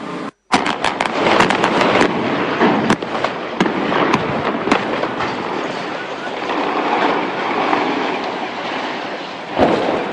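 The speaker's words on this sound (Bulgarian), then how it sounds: "Сградата рухна днес малко след 15 часа, след като в основите й специализирана фирма заложи близо 300 кг взрив." Controlled demolition of a 17-storey building in Plovdiv using about 300 kg of explosives: a rapid volley of sharp cracking detonations erupts, then gives way to a loud, sustained rumbling roar of collapse that fades off, with a final thud.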